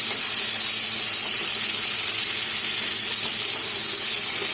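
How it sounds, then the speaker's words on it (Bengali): Chopped onions hit hot oil with spices for a Bengali kofta curry, giving a loud, steady, hissing sizzle that fills the whole moment without pause. "কুচি করে রাখা পেঁয়াজ দিয়ে দিলাম।"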